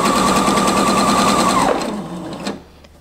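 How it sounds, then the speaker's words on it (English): A sewing machine runs a regular straight stitch while binding a dress neckline, a loud steady mechanical whir for about two seconds that then slows and stops. "I'm using a regular straight stitch."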